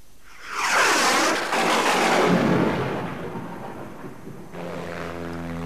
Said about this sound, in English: The pilot of this Piper Cub is going to attempt to land his plane on the rooftop of a truck.